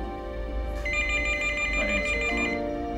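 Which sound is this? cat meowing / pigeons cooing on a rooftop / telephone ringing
telephone ringing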